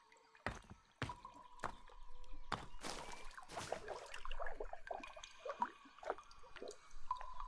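Water from a large rain catcher in a survival video game drips and splashes in irregular wet plops. A few sharp impacts come first, then a softer patter with gurgling runoff, fairly close and without talk.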